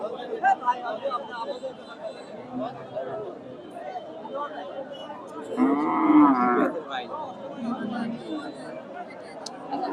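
A native deshi cow lows loudly for about a second at a busy Bangladeshi cattle market in Bogura, with crowd chatter and market bustle continuing around it.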